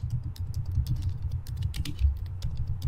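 Rapid typing on a computer keyboard, dense clicking keystrokes in a quick irregular rhythm over a low hum, heard close and alone without any talking.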